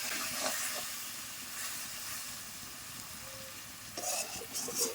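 Mango chutney with jaggery fries in oil and is stirred in the pan, giving a soft continuous sizzle and hiss with occasional scraping stirs, fairly faint and close.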